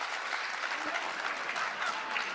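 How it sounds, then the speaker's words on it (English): Audience at a televised town hall applauding steadily, a dense sustained wash of clapping from a large crowd with no pauses. "And they're applauding that."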